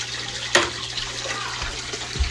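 Adult brown shrimp dumped straight into a piranha tank make a brief watery splash, followed by continuous sloshing and bubbling water noise close by.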